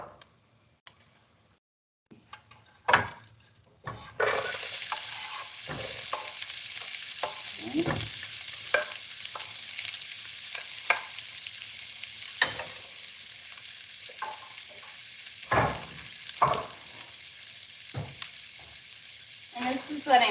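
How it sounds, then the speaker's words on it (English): Shallots and garlic hit a hot pan and sizzle steadily at a moderate, close level, with occasional scrapes and taps of a wooden spatula stirring them. The frying runs on continuously. "I'm going to throw these shallots and garlic in here."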